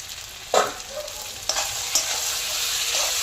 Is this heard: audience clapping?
no